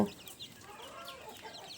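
Tiny baby chicks cluck and peep softly while being given golden starter feed, faint scattered calls close by with no voices.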